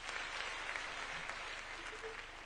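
An audience at a school thanksgiving ceremony applauds board members with a continuous, even clapping that is fairly faint and distant and fills the whole stretch.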